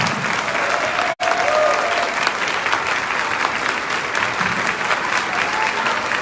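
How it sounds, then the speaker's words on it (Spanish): An audience at an event applauds loudly and steadily, a dense wash of clapping hands that continues throughout, with one very brief dropout early on. "Fuerte el aplauso para nuestra directora de especialistas"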